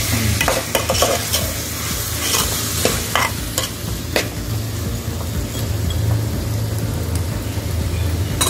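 Aviyal being stirred in a pan on the stove before it is covered, loud close scraping and clattering of a utensil over a constant frying sizzle, with no talk.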